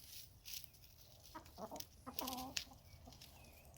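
Backyard laying hens about two years old cluck in a few short bursts at middle distance, their calls rising over a low steady background hum with no voices present.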